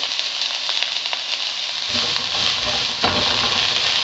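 Sliced onions hit hot oil for a pork dinuguan, a steady close sizzle that swells into louder, fuller frying partway through and keeps hissing without speech.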